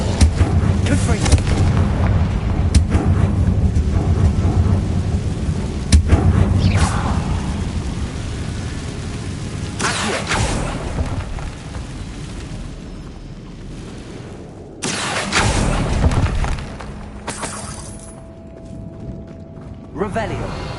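Confringo blasting spells explode repeatedly in Hogwarts Legacy, heavy booming bursts over a dense, rumbling game soundscape, with several strong broadband impacts spaced across the scene.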